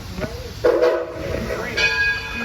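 Two trains passing nearby, with rumbling rail noise, a hiss and a sustained horn or whistle tone rising toward the end, loud and close.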